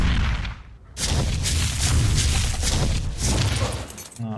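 Rumbling blasts and shattering bursts erupt inside a base in the video game Ark, loud and sustained for several seconds after a brief quiet start, with a low thump near the end.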